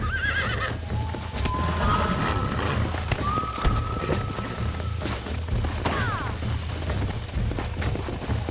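A horse in a western video game whinnies, then its hooves clip-clop in a quick galloping rhythm, close and fairly loud, with scattered gunfire-like bursts behind it.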